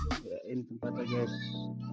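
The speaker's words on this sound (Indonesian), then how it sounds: "Ada kucing." A cat meowing at a budget tourist spot in Karawang, several clear meows close by with a person talking briefly in the background.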